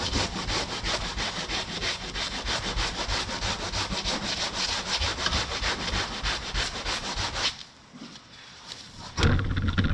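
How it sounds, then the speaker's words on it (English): A sander grinding across auto body filler in long, continuous rasping strokes, loud and close, briefly dropping off before resuming. "then hit it again with the sander"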